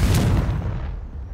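Confringo blasting spell in the Hogwarts Legacy video game: a single loud, booming blast that rumbles and decays over about a second.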